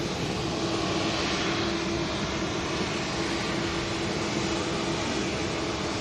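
An easyJet airliner lined up for departure to Belfast at Manchester Airport gives a steady, moderate jet engine rumble with a constant low whine, continuous and unchanging with no talk.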